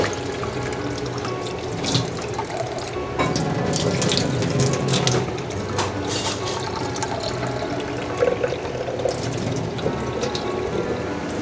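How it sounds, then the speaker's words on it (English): Jasmine rice is washed under a running kitchen tap, with water splashing and gurgling steadily in a sink and grains stirred by hand, close and continuous without talk. "We wash the jasmine rice first."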